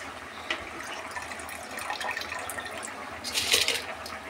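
Rice poured into a pot of boiling water, a watery rushing and bubbling with a brief splashy burst near the end, close and moderately loud, no speech.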